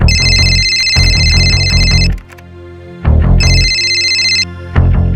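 A phone rings at night in a crime drama scene, two electronic ringtone bursts with bright warbling tones over dramatic background music.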